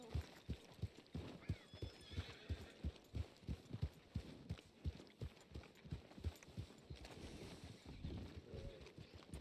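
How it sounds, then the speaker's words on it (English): Rhythmic clip-clop of horse hooves trotting at a steady pace in Red Dead Redemption 2, fairly close, with faint background tones and no talking. "let's find a place to hitch my horse"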